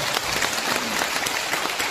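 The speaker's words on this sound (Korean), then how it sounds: "큰 박수 부탁드리겠습니다." Audience applause fills the room at a speech event, a steady dense wash of many hands clapping at close range, continuous and loud without pauses.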